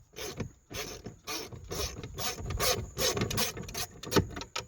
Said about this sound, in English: now I can just kind of loosen it with my fingers